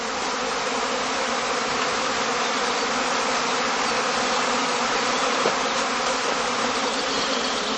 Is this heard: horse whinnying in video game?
no